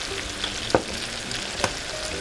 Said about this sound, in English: And he has mixed it with the spatula there.